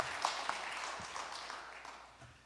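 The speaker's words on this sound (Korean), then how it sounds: "박수 한번 하시죠." A church congregation applauding during a Sunday worship service, a modest, diffuse patter of clapping that fades gradually over a couple of seconds, with no speech.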